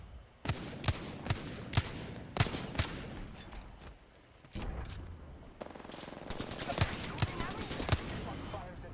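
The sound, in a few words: gunfire in video game Apex Legends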